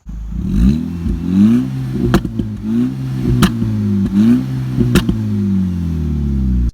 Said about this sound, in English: I have a custom exhaust on it that involves a 3-inch downpipe, a resonator, one of the factory mufflers, and a custom exhaust tip.